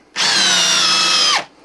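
A Makita 40V XGT hammer drill in drill mode at speed 2 whirs up sharply and runs at a loud, steady high pitch for just over a second before winding down abruptly.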